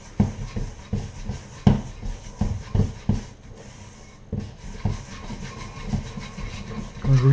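Stiff macaron almond paste is worked with a spatula, giving rhythmic scraping and thudding strokes, moderately close with no talk.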